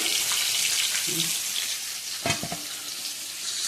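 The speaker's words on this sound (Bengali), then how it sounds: "বেশ লাল লাল করে ভেজে নিয়েছি" Pointed gourd (potol) frying in oil makes a steady sizzle, with a few clinks and a short burst of scraping near the middle; no speech.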